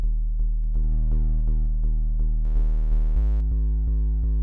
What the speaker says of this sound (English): this adds a bit of harmonic content over top of the bass.